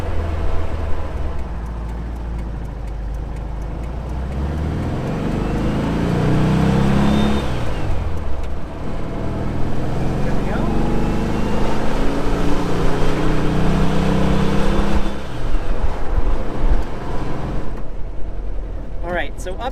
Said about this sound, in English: the engine warmed up so we can tune the carburetors properly